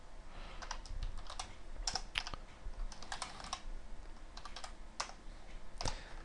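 Rapid computer keyboard typing, irregular clusters of close clicky keystrokes with short pauses, steady and fairly quiet, no talking.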